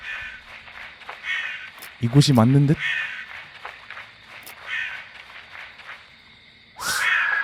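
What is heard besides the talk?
crows cawing in horror video game ZAHMAHREL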